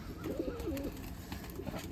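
Pigeons coo softly at a rooftop loft in a village, low rounded calls repeating through steady background noise at moderate distance, with no voices.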